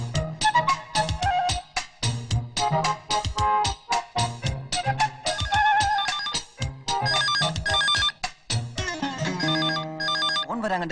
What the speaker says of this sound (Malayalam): ഫോൺ വരാൻ കണ്ടൊരു നേരം.